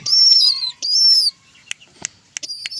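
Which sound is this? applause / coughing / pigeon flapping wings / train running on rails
pigeon flapping wings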